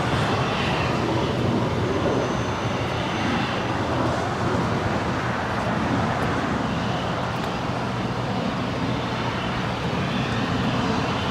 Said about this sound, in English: JSX Flight 322 coming in from Las Vegas. It's an ERJ 135 LR.